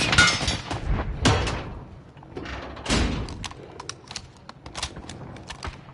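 Gunfire rings out during a Warzone quads battle royale match: several loud, sharp bursts of shots cut through, each followed by brief echoing tails, with smaller clicks and impacts scattered between them.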